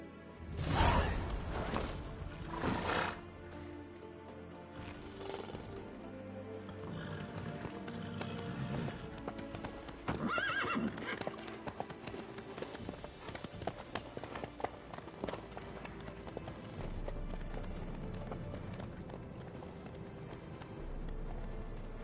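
Horse hooves clip-clop steadily at a gallop in The Witcher 3: Wild Hunt, close and continuous for the whole stretch, with game ambience and faint voices underneath; no neigh stands out.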